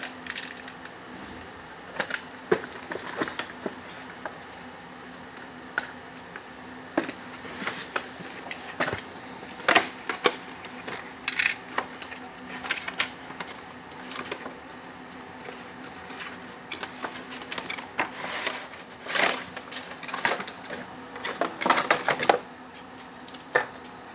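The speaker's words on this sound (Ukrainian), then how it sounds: "В подвійній упаковці. Така коробка. Пробуємо її дістати." Rustling cardboard and plastic with scattered taps and clicks as a boxed Prologix MH-A770M wired headset in double packaging is pulled out. The handling noises are fairly quiet and sporadic, with no speech.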